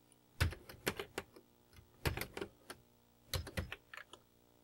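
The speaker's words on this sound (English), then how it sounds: "You've got your computer on and you start typing on it." Keys on a Commodore 64 computer keyboard being typed in quick bursts of a few clacky strokes each, close and fairly quiet, with short pauses between the groups.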